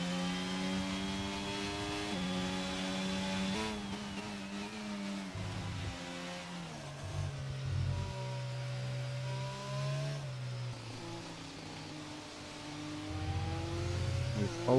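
Formula 1 cars on full wet tyres pull out of the pits one after another in an F1 racing game at the French round, engines whining and shifting pitch as they pass, steady and fairly close with no talk.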